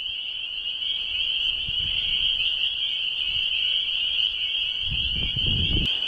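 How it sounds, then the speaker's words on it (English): A dense chorus of spring peeper frogs calls loudly at night along a trail, a continuous shrill wall of high peeps with a few soft low rustles underneath and no voices. "Man, these are some loud peepers."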